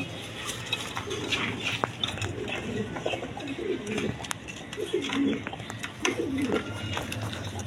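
Large Lahori pigeons coo in soft, low, repeated phrases close by, amid light clinking and general background noise.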